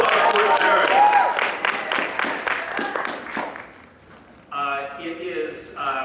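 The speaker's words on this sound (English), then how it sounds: "Round of applause for Sharon." An audience at an anime convention panel claps in a burst of applause that fades out after a few seconds, then a voice starts speaking.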